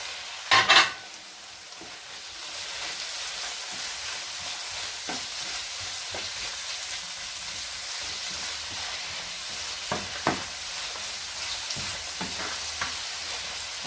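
Vegetable rice sizzles in a pan after gravy is added, giving a steady, bright frying hiss broken by a few sharp clatters of stirring and scraping.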